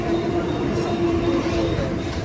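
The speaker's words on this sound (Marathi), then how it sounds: "ट्रेन बी आली" A Mumbai local train pulls into a crowded station platform, a steady loud rumble of rail cars with a faint high whine running throughout, noise of the waiting crowd mixed in.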